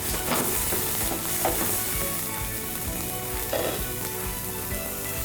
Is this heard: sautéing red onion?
yes